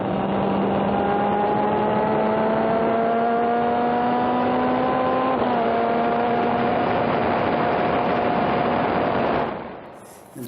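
Onboard a Formula Atlantic or Formula Mazda race car at an SCCA event at Sonoma, the engine holds a loud, steady drone with rising tone through the gears, then cuts off abruptly near the end.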